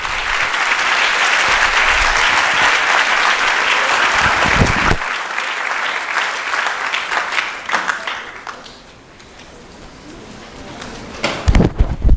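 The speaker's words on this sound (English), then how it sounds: "let's give her another round of applause" An audience claps loudly after a talk in a leadership speaker series, with dense applause that thins into scattered claps toward the end.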